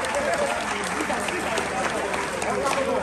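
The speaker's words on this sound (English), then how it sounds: "This is a round of applause for him." Dense, loud applause from a comedy show audience in Lagos, steady and continuous throughout with crowd noise and voices mixed in.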